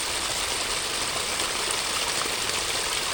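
Stream water rushes steadily around an FMS K10 V2 Chevy Blazer mini RC crawler driving through it, a constant close, broadband wash without pauses or speech.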